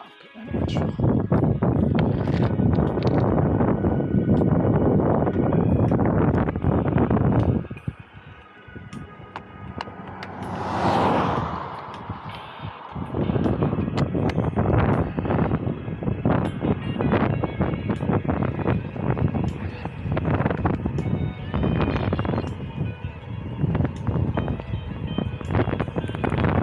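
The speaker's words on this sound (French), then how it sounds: "Un vent de côté" A crosswind roars across the microphone while cycling on a long road stage, a loud continuous buffeting that briefly drops to a lull midway before surging back.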